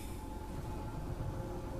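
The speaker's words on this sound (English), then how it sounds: "It's another train." A train in the horror game Choo Choo Charles gives off a dense, steady low rumble with rattling texture, continuous and moderately loud throughout, with no voices.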